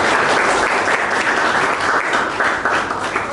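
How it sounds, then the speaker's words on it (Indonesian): A classroom of students bursts into loud, continuous clapping, close and dense, holding steady for a few seconds without talk. "Tepuk tangan buat kelasnya."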